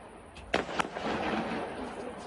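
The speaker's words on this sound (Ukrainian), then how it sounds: "Кількаметрові іскри від феєрверка та гучні вибухи." Two sharp bangs in quick succession, then a steady crackling roar of fireworks bursts and sparks near an electrical substation, outdoors at moderate distance.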